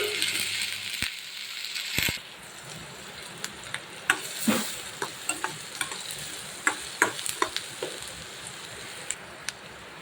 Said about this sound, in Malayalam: ഇട്ട് നന്നായിട്ട് അത് വഴണ്ട് വരണം. നല്ല ബ്രൗൺ കളറാവുന്നിടം വരെ നന്നായിട്ട് ഇളക്കി കൊടുക്കാം